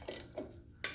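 A ratchet on a John Deere A tractor clutch gives three quick metallic clicks spaced through a brief moment, close and fairly sharp, with no talking.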